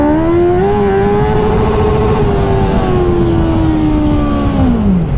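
A Honda CBR 650R motorcycle accelerates hard in first gear, its loud, continuous engine note climbing steadily in pitch for several seconds before dropping off near the end as the rev limit approaches.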